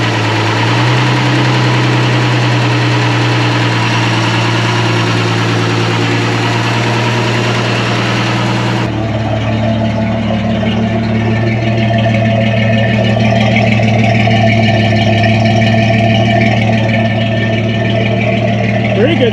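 The engine of a 1966 Ford F350 tow truck runs loud and close, then shifts partway through into a lower, steadier idle with a rough mechanical rumble and vibration.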